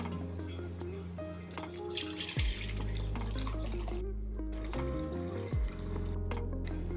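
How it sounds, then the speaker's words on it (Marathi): Milk being poured into a pot for homemade curd, a steady liquid pour with a couple of brief pauses and splashy trickles, quiet and close. "सगळ्यात अगोदर मी इथं दूध घेते."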